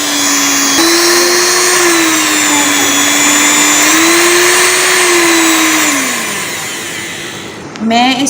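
An electric hand mixer runs on turbo speed with a loud, continuous motor whine whose pitch wavers slightly before it winds down near the end.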